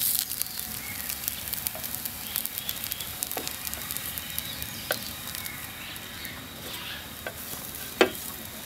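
Dosa batter frying in butter on a hot pan, a steady soft sizzle running throughout with a few faint scrapes and clicks, close by and without talk.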